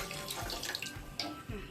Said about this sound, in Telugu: ఇప్పుడు ఇందులోకి వాటర్ వేసుకుందాం.